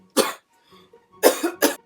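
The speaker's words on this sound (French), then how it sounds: "Je sais pas pourquoi j'ai toussé." Three sharp coughs, close and loud, come in a quick uneven series with a faint breathy pause between the first and the last two, after sipping a spicy cherry-flavored Coca-Cola.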